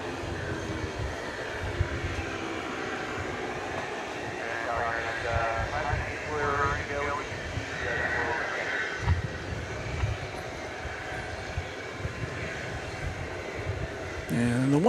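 Aircraft at DFW airport at night, one built in 1994, a distant low engine rumble steady underneath, with someone talking over it for most of the stretch.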